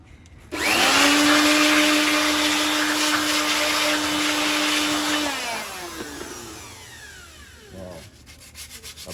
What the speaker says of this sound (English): Now we're going to use a professional blower, that's an electric blower, to also blow away